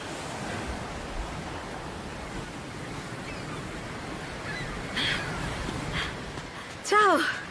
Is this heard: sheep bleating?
no